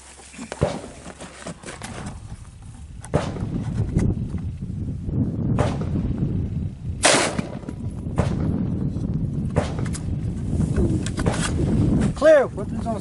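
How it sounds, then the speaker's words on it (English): A rifle fires Underwood VMAX ammunition at a fiberglass armor panel at an outdoor range, a few sharp cracks spaced seconds apart over low wind rumble, with people talking between shots. "now we're going to fire the other Underwood ammo here"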